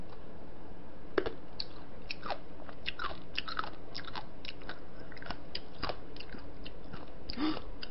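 Spicy braised seafood being eaten at close range, with repeated crisp bites, wet chewing and crunchy clicks in an irregular rhythm, quiet and without talk.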